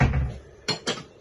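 A brief rustle of kitchen noise, then a couple of quick clattering knocks as a lid is set down onto a bowl of Thai MAMA instant noodles soaking in hot water.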